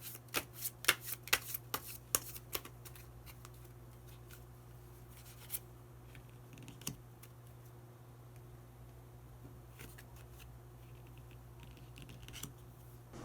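Tarot cards are shuffled and drawn by hand in a quiet room, a burst of crisp riffling snaps at the start followed by sparse soft flicks and slides of single cards against a low steady hum.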